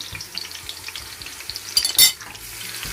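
Chopped onion, thyme, curry powder and all-purpose seasoning frying in a heated pot for Nigerian fried rice, a soft sizzle with scattered spoon taps and scrapes, ending in a louder metallic clatter.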